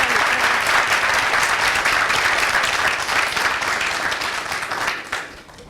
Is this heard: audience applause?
yes